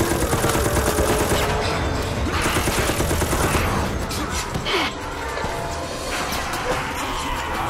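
Rapid automatic gunfire in Resident Evil: Operation Raccoon City, dense continuous bursts close and loud, with a few impacts and a gasping voice mixed in.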